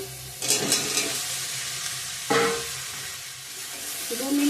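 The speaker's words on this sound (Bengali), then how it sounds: "ভেজে রাখা আলুগুলো এখন দিয়ে দেব" Fried potatoes drop into sizzling cooked-down masala in a pan for an egg curry, with loud bursts of frying hiss at the drop and again when stirred, and a quieter sizzle between.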